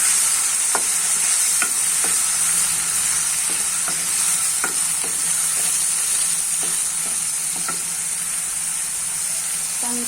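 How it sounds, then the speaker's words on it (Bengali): Masala stir-fried in a pan for boiled egg curry with potatoes: a constant close sizzle and hiss punctuated by regular taps and scrapes of a spatula against the pan, with no voices. "দিয়ে ভালোভাবে কষিয়ে নিতে মশলাটা যত ভালোভাবে কষানো হবে"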